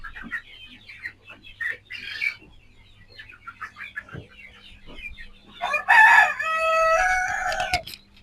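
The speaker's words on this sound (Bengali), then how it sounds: "তো আপনারা দেখতেছেন আমাদের মুরগিগুলো কত সুন্দরভাবে খাচ্ছে।" Sonali chickens, about 42 days old, in a poultry farm shed give scattered clucks and chatter, then a loud, drawn-out rooster crow rises near the end over a faint fan hum.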